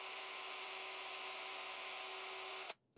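A power drill spinning a screw at high speed to melt holes in plastic, a steady loud whine for nearly three seconds that stops abruptly, followed by a brief faint blip.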